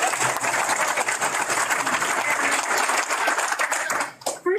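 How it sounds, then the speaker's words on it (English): Applause from an audience at a Guam government proclamation signing, a steady dense wash of clapping that holds for about four seconds before breaking off near the end. "Let's give a round of applause."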